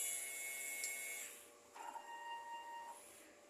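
A DTF printer running a print head cleaning cycle, with quiet whirring motor and pump sounds and a shifting mechanical tone partway through, faint and close with no talking.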